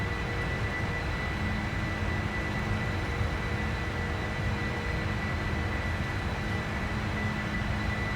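Steady broadband roar of a heavily loaded Kalitta Air Boeing 747-400BCF freighter climbing out of Leipzig in a PMDG flight simulator, a constant loud engine and air rush with a faint tonal hum and no voices.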